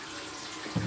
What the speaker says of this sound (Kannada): ನೀರು ಬಿಟ್ಟಿದ್ದೀನಿ ಬಾಗ್ಲಿಗೆ ನೀರು ಹಾಕೋದಕ್ಕೆ.